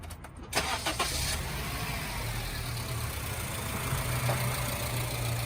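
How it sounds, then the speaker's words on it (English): A Honda Civic engine cranks briefly and catches, then settles into a steady, even idle heard up close and alone, with a low engine hum continuing throughout. "Let's demonstrate with my dad's Honda Civic. So, all I have to do is start the car."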